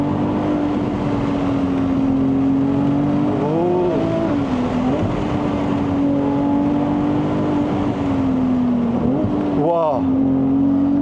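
Engine of a Ferrari 296 GTS with the roof open, driving in race mode: a loud, steady engine note from inside the cabin with a few rising revs and gear changes, and someone talking over it.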